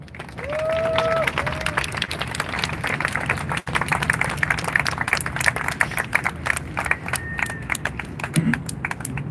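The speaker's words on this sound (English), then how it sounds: "Big clap for Daniel." A crowd at a live political rally claps and cheers for a man named Daniel, dense sustained applause close by, with a brief whistle-like tone early on.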